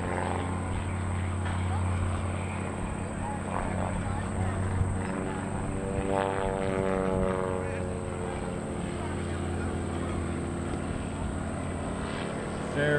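A propeller airplane performs at an airshow, its engine droning steadily and shifting in pitch as it passes at moderate distance, with an announcer talking over it.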